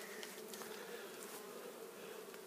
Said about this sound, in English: you can see lots of bees for a start